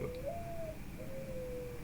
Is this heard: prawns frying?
no